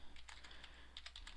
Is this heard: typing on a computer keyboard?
yes